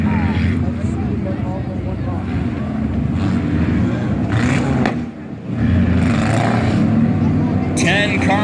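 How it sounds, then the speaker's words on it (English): Four-cylinder class race cars roll onto the track at Valley Raceway for a heat race, a steady drone of several engines with occasional revs, with a commentator talking over the engine noise throughout. "here comes some of the 4-cylinders here at Valley Raceway"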